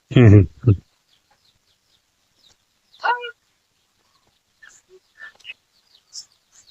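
A brief voice, then faint scattered clucks and chirps of hens and chicks in a quiet chicken house.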